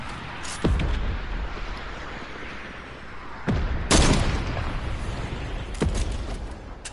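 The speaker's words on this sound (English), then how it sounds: "Everybody shooting rocket launchers." Rocket launchers fire in a Fortnite-style shooter game, several sharp blasts and booming impacts spaced a few seconds apart over a rumbling background, no talking.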